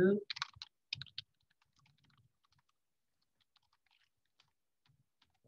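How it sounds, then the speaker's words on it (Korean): A quick burst of clicky computer keystrokes near the start, a few close taps in rapid succession, then near silence with faint scattered ticks. "컨트롤 엔터 치고 있습니다"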